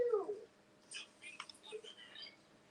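A person imitates a cat during a guessing game, giving a drawn-out meow at the start. Quiet, breathy whispers follow close by.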